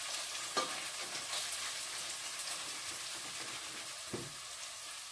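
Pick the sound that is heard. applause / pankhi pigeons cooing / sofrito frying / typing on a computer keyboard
sofrito frying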